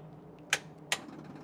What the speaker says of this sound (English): The ticking of the SU fuel pump